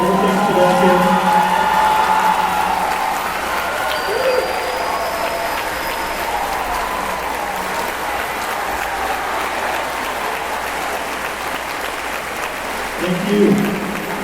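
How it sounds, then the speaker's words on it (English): An audience at a high school band and choir pops night applauds the choral director, a dense sustained clapping that fills the hall, with a voice briefly heard over it and the applause tapering toward the end. "So would you please give her a round of applause for everything she does here?"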